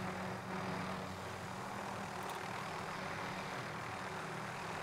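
Helicopter in the Warzone battle royale game, a steady, loud rotor and engine drone holding constant for the whole stretch with no talk over it.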